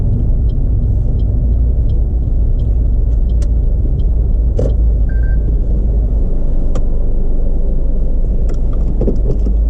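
A car creeps into a parking space in a driveway at a testing centre, a steady low rumble of the engine and tyres running throughout, with a few faint clicks and knocks above it and no voices.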